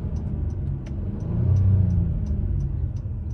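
A 2021 Honda Pilot Special Edition AWD in sport mode and first gear revs its engine in a steady, loud mid-range drone that swells briefly in the middle, with faint regular ticks above it and no talking.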